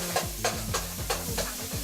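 Diced onions stirred in a hot pan during a cooking show, a steady close sizzle broken by repeated scraping strokes of a utensil, with no talking.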